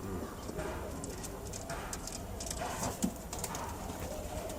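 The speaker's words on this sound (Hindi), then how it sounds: "ये कबूतर है" A domestic pigeon coos softly in a breeding loft where young chicks are kept, a low throaty murmur under steady background noise, with a few faint rustles and a voice faintly nearby.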